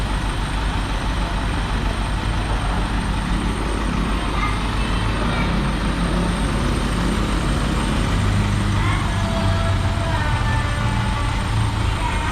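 A bus engine idles at the Batam Center ferry port, a loud, steady low rumble that runs unbroken throughout, with faint traffic and activity around it.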